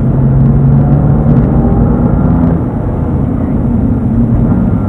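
Car accelerating hard on the Dreux race circuit, a loud, continuous engine roar with a strong low rumble and steady pitch, close and unbroken for the whole stretch.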